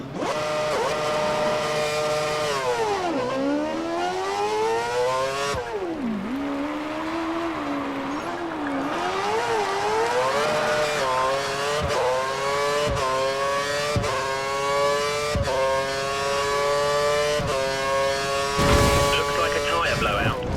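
A Formula One race car in F1 2013 accelerates hard out of a corner toward 185 mph, its engine note climbing through gear changes in sustained rising sweeps, loud and continuous, with a voice speaking over it.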